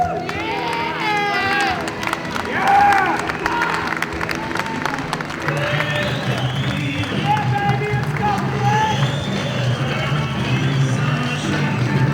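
Crowd noise from the stands at a high school wrestling match, with cheering and shouts layered over music, steady and loud throughout, with voices calling out among the din.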